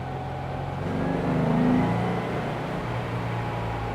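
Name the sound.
Porsche 356 engine accelerating while driving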